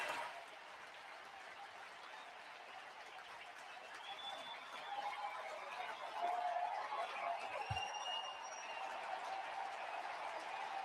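A baseball stadium crowd applauds pitcher Cristopher Sanchez during a 1-1 game, a steady, distant wash of clapping and cheering that swells slightly midway, with faint whistles above it.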